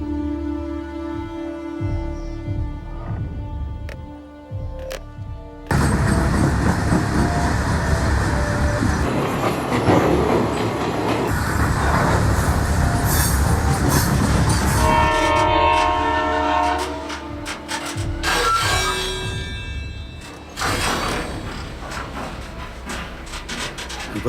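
A moving train rumbles loudly on its rails, a continuous heavy roar that swells partway through, with sustained horn blasts sounding over the clatter toward the end.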